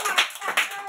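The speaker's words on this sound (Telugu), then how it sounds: "క్లాప్స్ కొట్టండి అందరూ, గట్టిగా కొట్టండి, చాలా గట్టిగా కొట్టాలి" Anganwadi children clapping their hands loudly, a few sharp claps in quick rhythm, close and bright with no voices.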